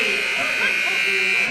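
A halftime buzzer sounds at a college basketball game, a steady loud electronic buzz that holds through the whole moment over crowd noise.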